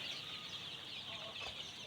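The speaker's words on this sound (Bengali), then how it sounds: "আপনারা সরাসরি দেখতে পাচ্ছেন অরিজিনাল টাইগার মুরগি, কেউ বলে অস্ট্রেলিয়ান মুরগি" Tiger chickens, also called Australian chickens, cluck softly at a poultry seller's place, faint scattered clucks over a quiet background hiss.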